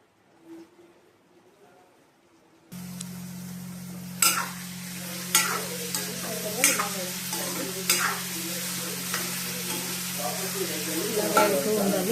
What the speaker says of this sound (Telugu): ఆయిల్లో పెట్టి వేయించుకోవాలి.